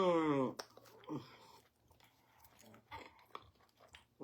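Yam fufu being chewed with ogbono soup, close, soft wet mouth sounds and bites scattered between bursts of talking and vocal noise at the start.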